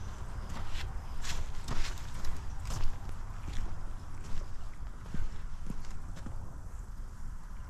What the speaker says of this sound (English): This is a sound of ice.